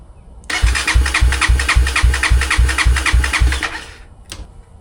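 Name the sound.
Honda CRF250F dirt bike engine starting and running briefly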